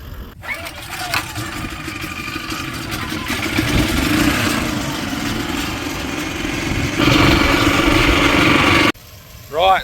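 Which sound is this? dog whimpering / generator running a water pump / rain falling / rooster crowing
generator running a water pump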